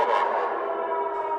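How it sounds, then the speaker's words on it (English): An air raid siren wails over Lviv, Ukraine, in wartime: a sustained, reverberant tone that holds steady and slowly fades as it echoes across the city. "The air raid siren wails over Lviv"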